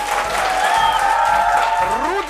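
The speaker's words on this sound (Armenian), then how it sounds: "Ծափարենք, ծափարենք։" A studio audience at an Armenian game show claps steadily throughout, a dense wash of applause with a sustained musical tone and some voices mixed underneath.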